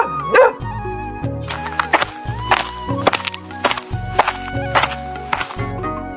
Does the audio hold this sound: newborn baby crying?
no